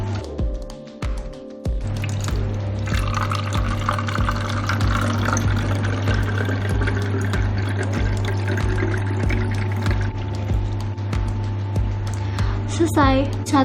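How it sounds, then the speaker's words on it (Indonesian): Homemade disinfectant, water mixed with Bayclin bleach, is poured into a spray bottle, giving a steady close pouring and filling sound under an ongoing voice, with a brief squirt near the end. "kita masukkan cairan yang tadi kita udah campur air dengan Baiklin tadi ke dalam wadah yang bisa disemprot gini"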